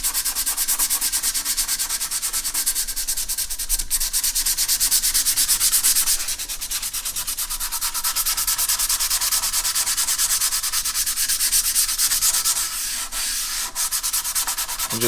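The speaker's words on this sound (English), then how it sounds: "I can take some sandpaper and smooth that out real quick" An acoustic guitar's wood is hand sanded with 180 grit sandpaper in a garage, producing a close, loud, continuous rasping scrub in quick back-and-forth strokes, with no talking.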